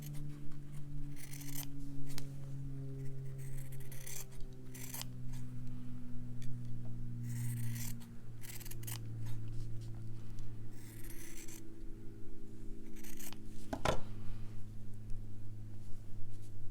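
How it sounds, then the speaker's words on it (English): Scissors snip through fabric to trim a stitched embroidery square, a few soft intermittent cuts heard close up over steady low room hum. "So I'll just snip this down to size"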